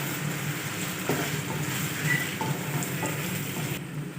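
Tomato paste frying with onions in a pan, a steady close sizzle with a few faint clicks of a spoon against the pan.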